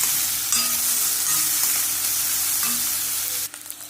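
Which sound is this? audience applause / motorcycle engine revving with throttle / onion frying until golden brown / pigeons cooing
onion frying until golden brown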